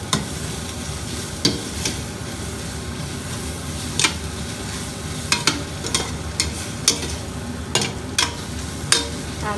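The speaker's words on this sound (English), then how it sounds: "This you have to fry it till the rawness goes. It has to get fried in that oil." Biriyani spices with turmeric frying in hot oil, a steady close sizzle broken by repeated sharp scrapes and clinks of a spoon stirring the pan, with no talk.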